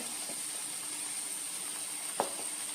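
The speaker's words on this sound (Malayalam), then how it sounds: "ഇതിലേക്ക് ഒരു ടേബിൾ സ്പൂണ് മുളക് പൊടിയാണ് ചേർക്കുന്നത്" Tomato masala sizzles in a pan as a tablespoon of chili powder goes in: a steady, even frying hiss throughout, with one brief soft clink near the end.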